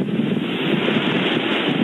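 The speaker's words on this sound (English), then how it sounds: "you start to hear the wind flying through pieces of metal and stuff" Hurricane Irma wind gusts roar steadily past loose metal, a dense, loud rushing noise with slight surges, close to the microphone and buffeting it, with no voices.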